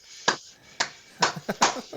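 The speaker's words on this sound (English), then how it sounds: "Oh, you're going to golf clap? You're going to slow clap me?" A slow golf clap: a handful of separate, crisp hand claps, spaced and unhurried, close by and fairly quiet, with no talk.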